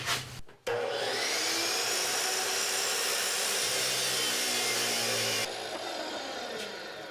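An angle grinder cuts through metal for a vehicle hitch build, a loud harsh continuous whine that starts abruptly after a brief knock and runs for several seconds before dropping slightly in level.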